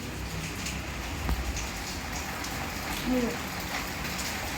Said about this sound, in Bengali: ঝটাপট বৃষ্টি পড়ছে বাইরে